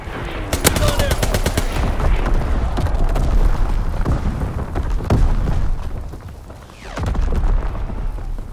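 Division artillery fire in Call of Duty WWII during a domination match, heavy booming blasts and crackling gunfire in dense bursts, loud and continuous, with a brief lull near the end before the barrage resumes.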